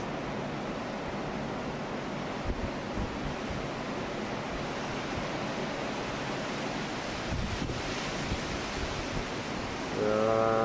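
Ocean waves breaking with gusty wind blowing foam off the crests, a constant broad roar of surf and wind buffeting the microphone, with a brief tonal sound near the end.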